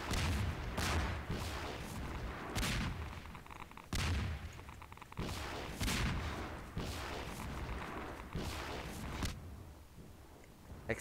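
Explosions and gunfire in the video game Half-Life 2, a dense, loud run of repeated blasts and booming shots continuing for about eleven seconds.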